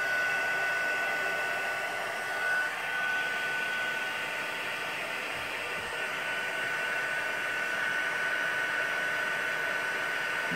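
Heat embossing tool blowing hot air over embossing powder on paper, a steady close whooshing roar that holds for the whole stretch with no talk.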